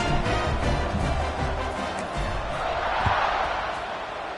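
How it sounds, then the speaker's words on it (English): Football stadium crowd buzzing after a touchdown score, a steady dense roar of many voices filling the air, with a louder swell and a brief thump near the end, heard from the broadcast position. "this crowd is buzzing after that last score"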